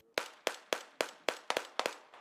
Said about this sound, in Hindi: इसके बाद एक पेड़ के नीचे से जवान ने फायरिंग शुरू की।